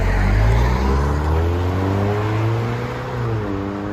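A 2013 Ford Fusion EcoBoost with a Flowmaster 44 exhaust, upgraded turbo and stage 2 tune revs loudly and close by, its deep engine note climbing and holding in steady rising harmonics with no talking.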